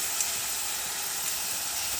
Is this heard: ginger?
yes